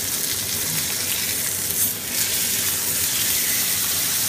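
A steak in a hot pan fizzes with a loud, continuous, close crackling sizzle as it is flipped, the hiss swelling briefly at the turn.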